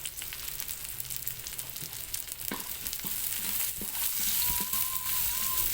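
Garlic and onion sautéing in a pan for pork hamonado, a continuous close sizzle that grows louder, broken by clinks and scrapes of stirring.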